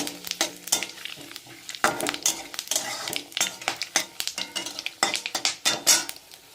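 Whole cumin, cinnamon, cardamom, cloves and dried chillies fry in a pan, crackling and sizzling under brisk stirring, with frequent sharp spatula clacks against the metal.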